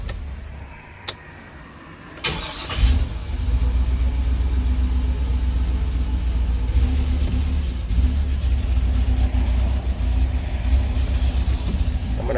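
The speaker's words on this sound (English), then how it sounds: "And number 6 is misfiring now." A 2003 Chevrolet truck with a 6.0L engine and 4L80E transmission runs rough with a misfire on cylinder six, a steady low rumbling engine note after a brief bump, close and continuous with no talking.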